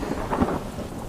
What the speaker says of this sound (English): No, Willie is just afraid of the thunderstorm and won't admit it.